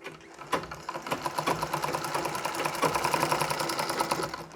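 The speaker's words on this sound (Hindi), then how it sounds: "अब ये कमर वाला भाग, ये भी हमें जोड़ लेना है सिलाई लगाकर।" A sewing machine stitches a Nauvari saree in a fast, steady rhythmic chatter that runs continuously at close range after a brief start.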